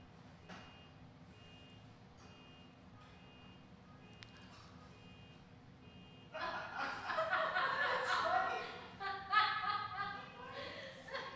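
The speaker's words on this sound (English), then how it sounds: "Somebody's car is beeping." A car outside beeps in a faint, steady repeating pattern during a quiet indoor gathering, and then a burst of louder laughter and chatter from people in the room covers it.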